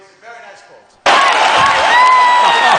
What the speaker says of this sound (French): Et tout le monde applaudit Super Lily.